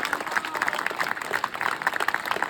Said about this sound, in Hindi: जोरदार होकर वो लइका मन पर ताली बजा दो